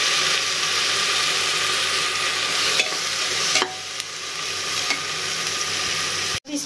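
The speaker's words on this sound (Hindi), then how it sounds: "प्याज लाल हो चुकी है, अब इसमें मैं पेस्ट डाल दे रही हूँ।" A spiced paste fries with browned, thinly sliced onions in a pan, giving a loud, steady close-up sizzle broken by a few sharp stirring scrapes.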